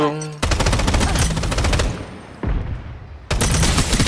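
Rapid automatic gunfire in the shooter game Strinova sounds in loud, dense bursts, with a short pause between the first two and a final burst that cuts in sharply at the end.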